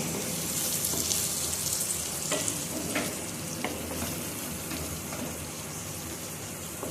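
Chicken curry frying gently in a pan over a low flame, a steady soft sizzle running throughout with occasional stirring clinks and scrapes, close and alone with no talking.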